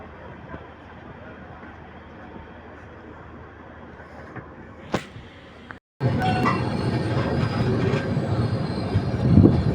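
A moving train heard from inside an AC coach on a Vijayawada to Ahmedabad journey. A steady low rumble runs throughout, then after a brief cut a louder, brighter roar of rolling wheels with squeals follows.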